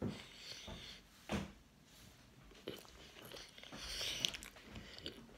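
Someone bites into a homemade sandwich of potato chips, cucumber slices and ketchup, giving a few close crunchy bites and chewing sounds with no talking.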